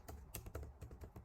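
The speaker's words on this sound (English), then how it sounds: "So I'm just going to type in" Fingers typing on a computer keyboard up close, a quick irregular run of soft plastic key clicks over about a second, quiet and alone.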